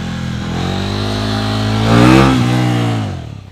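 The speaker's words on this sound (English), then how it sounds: "when the front tire is going back down, just before you touch the ground, add throttle, not full power, but add a bit" Motorcycle engine held at a steady drone, then throttle added as the front wheel comes down from a wheelie, a short loud rev swelling and easing off nearby.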